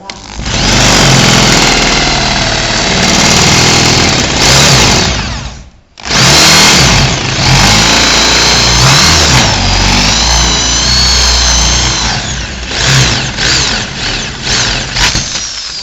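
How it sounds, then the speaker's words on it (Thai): A power drill bores through a wooden display cabinet panel, its loud motor whining steadily up close, pausing briefly midway before resuming with wavering pitch as the bit breaks through. "รอบสุดท้ายแล้วก็คือเจาะให้ทะลุผ่านไปเลย"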